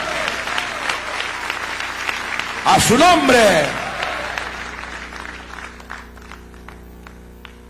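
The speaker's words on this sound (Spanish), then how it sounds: "Dale fuerte ese aplauso al Señor" A church congregation applauds the Lord during a pastor's testimony, a crowd of clapping beneath a preacher's voice, swelling briefly then fading.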